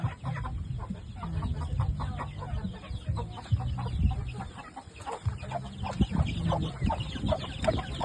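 A turkey and other fowl cluck steadily in a busy farmyard, with a constant low rumble underneath.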